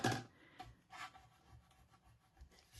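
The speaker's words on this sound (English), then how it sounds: "So it's a gum eraser." Gum eraser rubbing sticky adhesive off a pop-up petals card, soft close scrubbing strokes in a few uneven bursts, faint and quiet with no talking.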